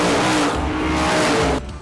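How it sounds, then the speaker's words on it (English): Race car engines roar at the IMCA Supernationals track in Boone, a loud, continuous revving drone with shifting pitch and brief tire squeal, fading slightly at the end. "In most towns, the constant roar of engines would yield constant complaints."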